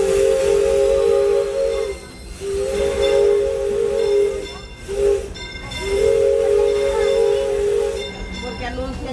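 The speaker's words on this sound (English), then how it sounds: "That's the whistle signal for we're coming." Steam train whistle at Disneyland sounds in long, loud sustained blasts, three of them with short gaps between, over a hissing background and faint voices.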